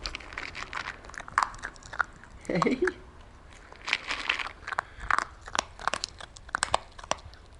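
Crisp, irregular crunching and chewing bursts from a dog eating, close by, with a person's voice speaking briefly over it.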